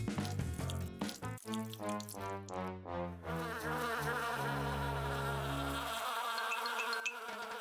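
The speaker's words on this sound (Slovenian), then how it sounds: "Oh, ne čebele." Bees buzz in a steady, loud, continuous drone with shifting pitch, with musical tones underneath at the start, in a children's cartoon about catching insects at home.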